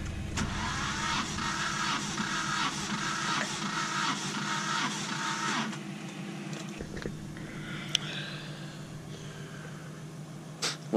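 A KA24DE engine cranks on the starter for a compression test, with the spark plugs out and the fuel relay pulled. It gives a rapid, even whirring chug for several seconds, then stops, leaving quieter clicks and handling noises.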